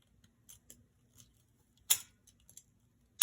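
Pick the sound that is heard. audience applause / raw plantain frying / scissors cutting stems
scissors cutting stems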